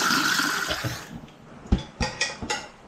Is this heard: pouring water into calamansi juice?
yes